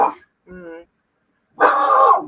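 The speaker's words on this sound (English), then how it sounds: "That's why they're barking." Dogs barking at an open shed door, heard as a short harmonic yelp followed by a louder, longer bark-like burst, near and with gaps of silence between.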